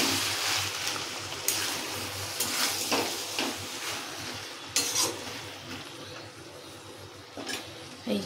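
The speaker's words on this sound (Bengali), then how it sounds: "এবার একটুখানি সামান্য চিনি দেবো, দিয়ে নাড়াচাড়া করবো।" A spoon stirs shrimp and Malabar spinach chorchori with sugar in a pot, giving a steady close sizzle broken by several sharp scraping strokes spaced a second or two apart, with no talk.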